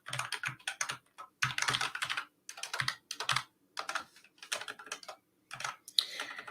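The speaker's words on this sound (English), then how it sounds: "Is my keyboard very loud?" Bursts of keyboard typing from a live coding session, clicking keystrokes in rapid clusters separated by short pauses, fairly close and alone with no voices.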